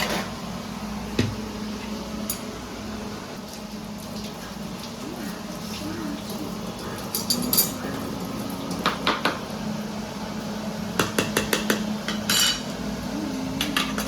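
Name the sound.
straining cooked rice in a pot, gas turned off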